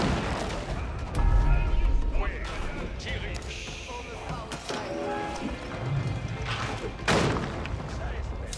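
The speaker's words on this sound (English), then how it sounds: "Now got a green trebuchet firing away." A trebuchet fires away in Age of Empires 4, with several heavy booms and thuds sounding amid battle noise, steady game clatter and a caster talking over it.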